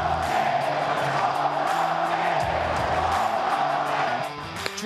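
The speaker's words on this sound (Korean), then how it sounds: "낮게 깔리면서도 강력한 송구에 팬들은 환호했고" A baseball stadium crowd cheers a catcher's low, powerful throw to second base, a broad sustained roar of many fans, fairly loud, dropping off at the end.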